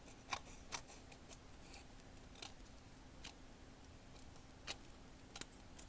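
Scissors cut out a sheet of decorative paper in a steady series of sharp, close snips spaced about half a second apart, against a faint steady hum.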